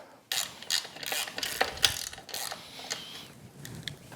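Ratchet wrench tightening bolts on a Mercury Tracker 25 outboard lower unit gearcase, with quick bursts of clicking pawl strokes close by and short pauses between them, and no talking.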